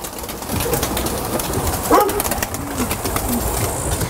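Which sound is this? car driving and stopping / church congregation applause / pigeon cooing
pigeon cooing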